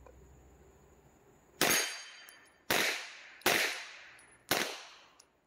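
Four sharp gunshots from a Glock 17 pistol firing poor-quality ammunition ring out close by after a quiet lead-in, each crack followed by a short decaying tail, spaced roughly a second apart with no talking.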